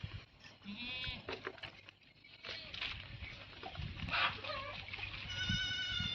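Young goat kids on a village farm at dusk, bleating in several short wavering calls scattered among soft rustling and pattering, fairly faint.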